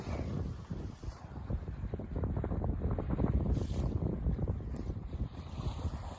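Gusty wind roars and buffets the microphone on a Buccaneer 18 sailboat, with a steady high whine and continuous rumbling underneath.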